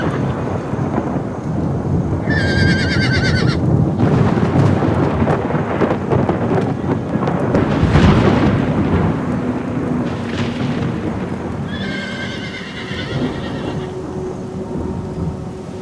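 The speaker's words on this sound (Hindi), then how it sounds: "बारिश हो रही है।" Heavy rain pours steadily while thunder rumbles and rolls, loudest around the middle, with a couple of brief high whinny-like cries breaking through the downpour.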